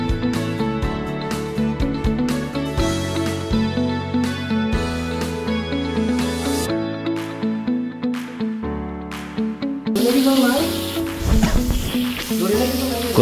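Meat sizzling as it fries in a wok at home, an ongoing crackle of frying that grows harsher and louder toward the end, with music playing over it.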